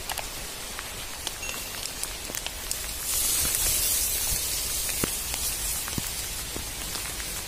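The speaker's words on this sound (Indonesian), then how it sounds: "hujan Roy." Steady rain falls outdoors at a fishing spot, a dense hiss of drops with scattered sharper patters. It swells louder partway through and stays continuous with no talk.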